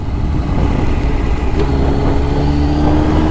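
Suzuki GSX-R 750 motorcycle being ridden, a steady loud engine drone with a low rumble and rising harmonic whine from about halfway through, constant level throughout with no voices.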